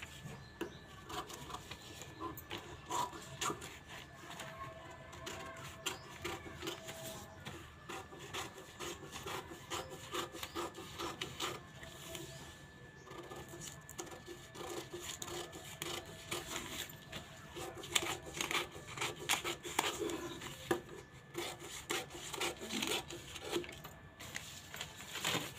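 Fabric being cut for a katori blouse gives a steady, close rasping and rubbing texture of blades working through cloth, continuing for the whole stretch with no voices.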